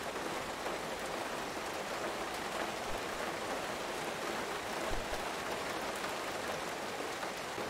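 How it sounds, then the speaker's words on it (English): Steady, dense rainfall hisses continuously, an even wash of drops with no pauses and no voices. "It is raining."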